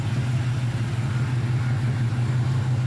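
A 1980 Chevrolet Camaro Z28 V8 engine idling steadily, a loud low rumbling drone held close and constant throughout with no talk over it.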